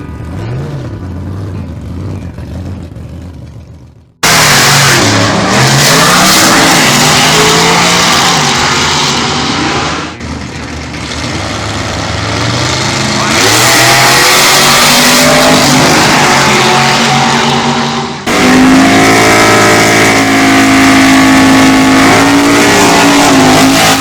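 Drag racing cars launch hard down the strip at Island Dragway, engines roaring loud and close with rising revs, brief lulls between runs before the next car thunders off.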